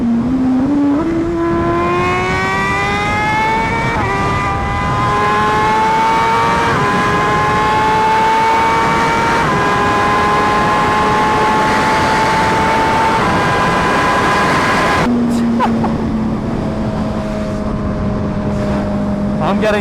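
An MV Brutale motorcycle with a new titanium exhaust revs steadily higher through repeated acceleration runs, a loud rising whine with brief gear-change dips and steady wind noise, while someone speaks over it.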